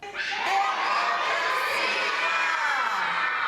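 Children at a justice-system event on the Constitution shout together loudly in a sustained, excited crowd roar with cheering, filling the whole moment without clear speech.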